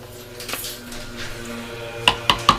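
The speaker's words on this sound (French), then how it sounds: "On va mélanger un petit peu, mais alors délicatement." Spoon gently stirring a pot of coq à la bière near the stove, with soft scraping followed by three light metallic clinks close by and faint background noise.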